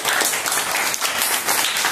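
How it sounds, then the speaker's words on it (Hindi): Children in a primary classroom clap together, a loud close burst of fast overlapping hand claps that holds steady throughout with no talking. "तालियां बजाओ भाई"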